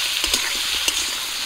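Chopped ash gourd fries in hot oil with salt and turmeric powder, giving a steady close sizzle with a few soft stirring scrapes.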